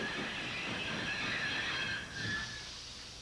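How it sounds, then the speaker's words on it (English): Thomas the Tank Engine's brakes in the countryside give a high, sustained squeal over rumbling rail noise, then fade out near the end as the engine settles, with no one speaking. "Thomas's brakes sound like this."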